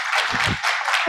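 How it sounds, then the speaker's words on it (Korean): Brief applause from an audience at a basic income conference session, clapping of moderate loudness for about a second, with low thumps mixed in. "큰 박수로 환영해 주시기 바랍니다"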